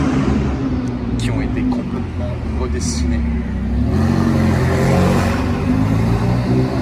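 A Ferrari 488 with a modified exhaust rumbles and revs loudly nearby, deep throaty exhaust swelling midway, while someone talks over it.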